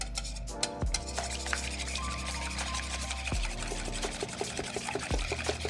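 Eggs seasoned with salt and pepper being whisked in a bowl, a steady rapid scraping and clicking that runs throughout, close and fairly loud with no talk.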